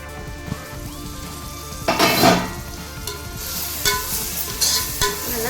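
Tomatoes sizzle in a pan while being stirred for mutton biryani, a low hiss broken by several louder spatula scrapes and clinks against the metal, close up with no talking.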